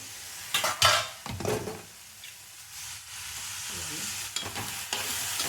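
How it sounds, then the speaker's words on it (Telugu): Curry cooking in oil in a pan, a soft continuous sizzle broken by several scraping, clattering strokes of a spoon stirring against the pan, close and moderately quiet with no voices. "కొంచెం ఆయిల్లో మగ్గినద్దామండి కర్రీ కలుపుదాం రండి"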